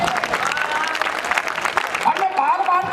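Clapping from a crowd at a religious fair festival, heard under a man's loud speech.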